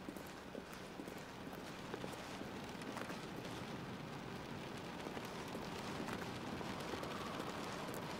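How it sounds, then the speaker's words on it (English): Soft rain in The Stanley Parable patters steadily as a faint, continuous wash with scattered small ticks and no voices. "it's raining."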